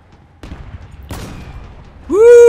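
Weapons fire in the vehicle combat video game Crossout: two quick bursts of gunfire close together, then a loud, bright sweeping impact or explosion effect to finish.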